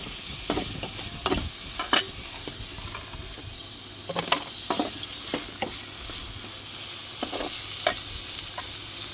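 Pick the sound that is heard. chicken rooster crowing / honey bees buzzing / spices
spices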